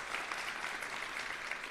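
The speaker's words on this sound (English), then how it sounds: "let's give him a round of applause" Audience applause at a business school graduate hooding ceremony, a steady dense wash of clapping filling the room without pause.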